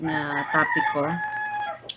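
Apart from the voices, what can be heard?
chicken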